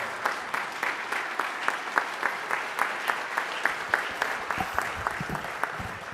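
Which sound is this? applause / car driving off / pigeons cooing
applause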